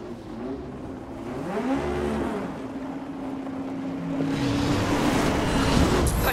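A Ford Raptor engine in the racing game The Crew revs and drones loudly and steadily, its pitch rising and dipping through gear shifts over continuous rushing road noise, with no voices.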